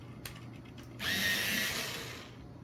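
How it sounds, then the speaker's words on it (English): A Venetian red coloured pencil is sharpened in an electric sharpener, giving a short, close buzzing whir of a little over a second that fades to quiet, after faint tapping. "I'm going to sharpen the Venetian red."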